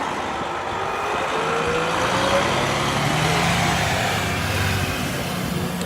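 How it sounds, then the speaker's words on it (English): A bus pulls away from Speonk station on Long Island, its engine a steady moderate drone with a slowly rising pitch, heard from a short distance without talking. "there goes our bus"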